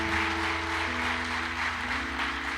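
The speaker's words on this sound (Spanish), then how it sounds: "Vamos a darle palmas de alabanza a Dios por eso." Congregation at a church service claps in praise to God, a soft wash of applause under a sustained low musical drone or hum.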